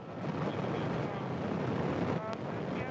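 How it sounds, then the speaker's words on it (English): A Soyuz rocket lifting off, a dense, continuous roaring rumble with wind-like buffeting, heard steadily from start to finish, with a voice speaking over it. "Liftoff of the Soyuz rocket."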